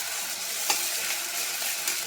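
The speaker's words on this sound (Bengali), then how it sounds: "পেঁয়াজটা দিয়ে আমি ভাজবো।" Onions sizzle steadily in a hot pan, a continuous close hiss broken by two brief scraping stirs, with no one speaking.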